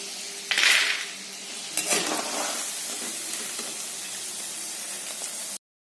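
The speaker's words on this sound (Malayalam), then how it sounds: "ബാച്ച് വറുക്കാനിട്ട്" Loud sizzle as a batch of coated Bengal gram hits hot oil, with a burst of spattering at the start, then steady frying hiss and a spoon clink before it cuts off.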